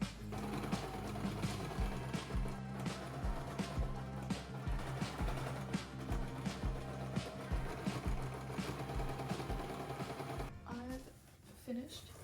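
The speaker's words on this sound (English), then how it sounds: "I've finished sewing the casing." A sewing machine stitches a fabric casing in long, steady mechanical runs with a rhythmic thumping, then stops near the end as a voice speaks.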